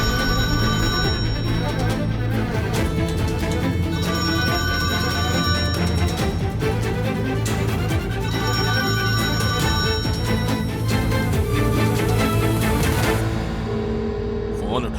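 A telephone bell rings insistently and loudly in an indoor drama scene, repeated trilling bursts running almost the whole time with background music beneath.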